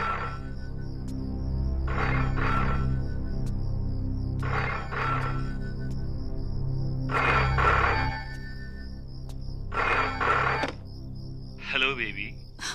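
A telephone rings in repeated bursts, ringing close and clear in an indoor scene from a Hindi action romance film, with a steady music score running underneath.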